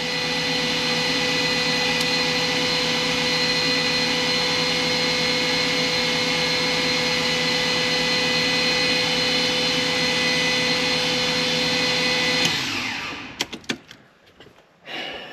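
A BMW E46 328i inline-six with a turbo upgrade cranks on its starter in a continuous, loud, even whirr for about twelve seconds. It then stops, leaving a few clunks and rattles.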